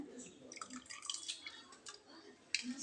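Water dripping and trickling from soaked rice being squeezed by hand while making no-oil, no-boil fried rice, heard as close, irregular wet splashes and drips into a vessel with no talking.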